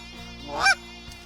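A single goose honk during a goose hunt, one loud rising call close by, with a fainter honk shortly after.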